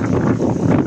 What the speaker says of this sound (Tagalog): Lakas ng hangin, pasensya na kayo.